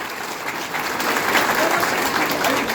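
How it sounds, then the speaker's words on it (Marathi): A crowd at a Shiv Sena party-joining event in Nashik claps steadily and loudly for a short stretch, an even wash of applause with no break. "माननीय एकनाथजी शिंदे साहेब यांच्यासाठी आपण जोरात टाळ्या आहे आहेत"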